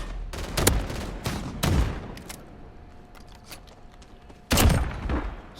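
R9-0 shotgun blasts in Modern Warfare: four sharp, booming shots spaced unevenly, the last one after a longer pause, with a faint tone lingering between them.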